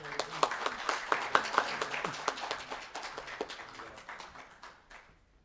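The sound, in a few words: audience applause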